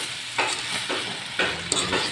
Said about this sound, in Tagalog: Ginigisa pa lang ito guys.